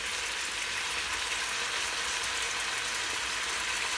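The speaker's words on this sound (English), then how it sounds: "We're going to just saute the veggies around a little bit here." Vegetables sauté in an Instant Pot with a steady, broad sizzle, an even hiss of frying that holds constant and fairly loud throughout with no voices over it.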